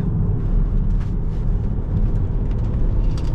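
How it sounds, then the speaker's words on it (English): BMW X5 E70 3.0 SD diesel engine droning loudly from inside the cabin while driving a twisty road, a dense low rumble with road and wind noise, steady and continuous. "You're just hearing the diesel roaring."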